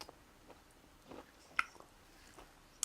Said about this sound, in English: They are crunchy on the outside, soft on the end.